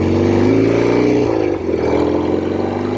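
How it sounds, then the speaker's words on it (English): A 1967 Norton P-11 desert racer with its Atlas 750 twin runs loud and close, a steady throbbing engine note that dips briefly near the middle before carrying on strong, with no voices. "A Norton Atlas 750. It just pulls like the dickens. It sounds beautiful."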